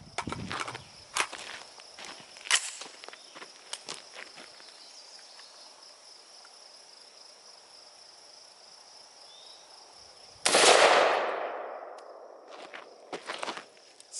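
A 5.56 NATO green tip rifle round fired at a Spartan Armor III+ ballistic plate: one loud, sharp crack with a long fading tail. Scattered footsteps and a steady chirp of crickets fill the quieter stretches before it.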